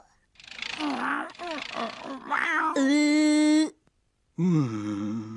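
A stray street cat meows several times, drawn-out and whiny, with longer wailing cries near the end after a short pause.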